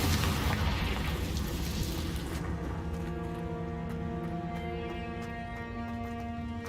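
Confringo fire spell blast in the video game Hogwarts Legacy: a loud, broad boom bursts at the start, then rolls into a long ringing, fading tail with steady tonal hum beneath.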